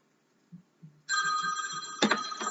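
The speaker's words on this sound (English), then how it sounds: "And then my phone rings." A phone rings up close with a bright electronic ringtone that starts abruptly and keeps going steadily after a few faint soft bumps in a quiet room.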